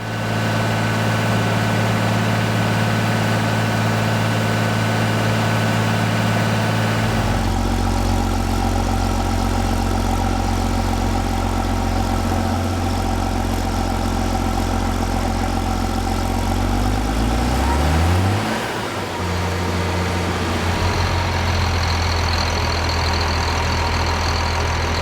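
A classic John Deere tractor engine, one of the 4055, 4255 or 4755 models, idles on a dynamometer. It gives a steady, loud, low rumble with a firm harmonic drone that shifts pitch midway, then settles into an even idle.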